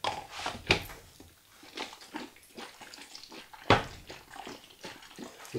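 Water sloshing in a developing tank as C41 colour film is washed after processing, with close, splashy bursts of vigorous agitation at an uneven rhythm.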